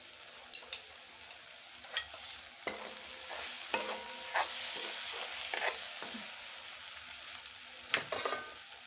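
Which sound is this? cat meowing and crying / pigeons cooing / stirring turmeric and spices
stirring turmeric and spices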